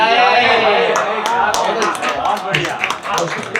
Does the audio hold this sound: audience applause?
yes